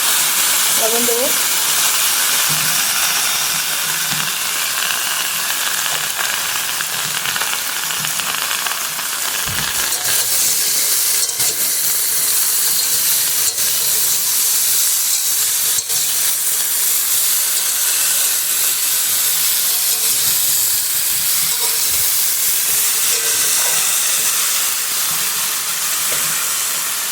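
Bottle gourd stems and potatoes frying in a pan give a steady, loud hiss and sizzle that runs unbroken throughout, with occasional faint clinks.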